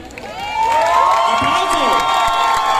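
A crowd at an anime fair cosplay group contest cheers and whoops loudly, high excited voices rising over clapping and sustained shouting from nearby, with an announcer-like voice briefly under the noise.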